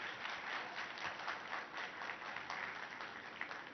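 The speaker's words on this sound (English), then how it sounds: "So let's give him a very warm round of applause." A conference audience at a Mumbai conclave breaks into warm, sustained applause, a dense, even wash of many hands clapping together for the whole stretch with no voices standing out.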